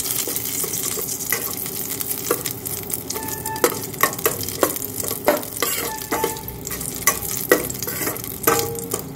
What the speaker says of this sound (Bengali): তেজপাতাটাকে একটু ভাজা ভাজা করে নিতে হবে,